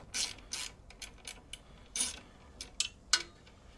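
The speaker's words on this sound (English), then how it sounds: "I'm using a ratcheting wrench." A ratcheting wrench loosens the exhaust bolts on a 2016 Harley-Davidson Softail, giving bursts of quick metallic clicking close by, about eight short runs of ratchet ticks spread over a few seconds with no voices.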